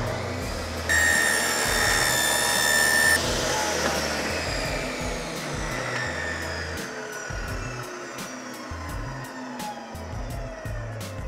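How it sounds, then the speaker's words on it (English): An old table saw rips through a sheet of ABS plastic, its motor whining loudly with a bright high-pitched tone during the first seconds of the cut, then running on with a steady hum as the blade spins down. "I'm going to use my trusty old table saw and see how that works."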